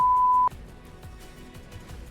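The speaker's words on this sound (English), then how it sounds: "Can we get a beep for all that nat 1?" A single steady censor bleep tone sounds loud for about half a second, then cuts off abruptly and leaves faint background noise.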